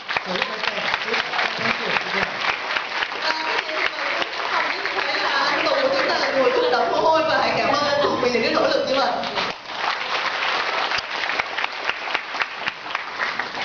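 An audience at a Nutrilite training seminar in Malaysia applauds Amway staff, a dense, sustained wash of clapping that swells in the middle and continues loudly throughout, with a voice briefly audible over it.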